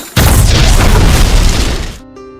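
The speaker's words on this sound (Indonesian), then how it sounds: "tidak sengaja kapten memicu bom di sana yang membuat jembatan di sana meledak" A bomb blows up a bridge in Death on the Nile (2022) with a heavy, roaring blast that stays loud for about two seconds and then cuts off abruptly into a quiet tonal background.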